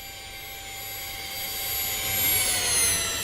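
An electric model jet in the RealFlight 9.5 flight simulator game gives a steady whining jet roar with an electric buzz that slowly swells louder, heard alone without talk.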